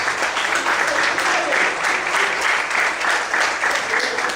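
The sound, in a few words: congregation applauding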